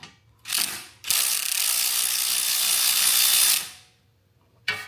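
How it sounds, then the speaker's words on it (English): A hand ratchet clicks while loosening valve cover bolts on a Troy-Bilt Bronco lawn tractor: a short burst, then a long steady run of fast clicks, and a final brief start, close and loud. "side ratchet."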